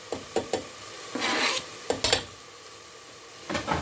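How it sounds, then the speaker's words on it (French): Stirring a pan of food just after grated garlic cloves go in, a few short scraping strokes and bursts of sizzle spaced through a quiet stretch, close and moderately loud, with no voices. "Je viens bien mélanger."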